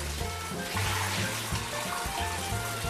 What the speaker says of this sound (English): we clean the shrimp under running water and repeat this for a few times until the water runs